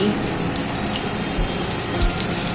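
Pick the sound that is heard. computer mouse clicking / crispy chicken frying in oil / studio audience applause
crispy chicken frying in oil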